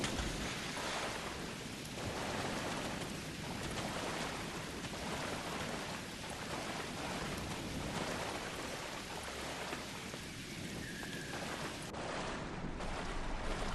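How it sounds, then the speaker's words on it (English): Soft, steady rain falls on the planet Ryza in the video game Star Trek Online, a faint, even hiss of drops with occasional low rumbles and no voices. "Wow, rain on Ryza. I guess they haven't installed the weather control systems yet."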